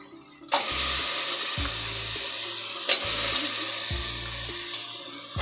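Vegetables sizzle in oil in a pan for Maggi masala rice bath, a steady close frying hiss with a rhythmic musical backing underneath.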